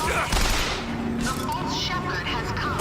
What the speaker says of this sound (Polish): Ktoś do mnie strzela.